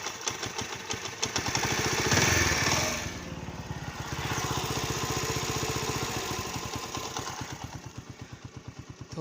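A motorcycle engine runs close by after a service, idling with a rapid, even putter, revving up briefly and settling back into a steady idle, with no talk.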